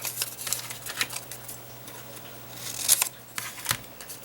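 Scissors snip paper for punch board bows in a paper-craft setting, a series of close, crisp cuts at an irregular pace over a low steady hum.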